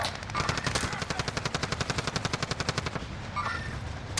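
Automatic weapon fire rattles in the video game Warzone in rapid, evenly spaced bursts that continue for several seconds, loud and close, with no talking over the shots.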